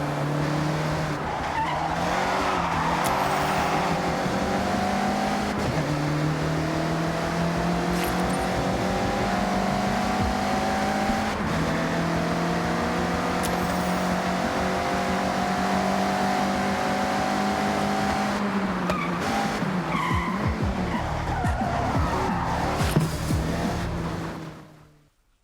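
A Mazda MX-5 drifts sideways in the Forza Horizon 6 racing game, its engine droning at high revs with shifting pitch under a steady hiss of sliding tires, loud and continuous before fading out at the end.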